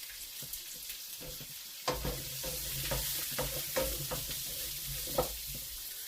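Garlic and ginger sizzle in a pan for a beef in black bean sauce stir fry, a soft steady frying hiss that swells after a sudden onset, broken by intermittent spatula scrapes and taps, no voices.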